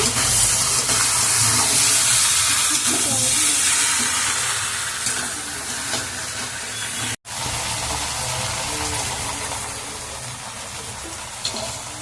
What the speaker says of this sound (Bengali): আলুটাকেও ঢেলে দিয়েছি, এবার ভালো করে একটু আমি কষিয়ে নেব।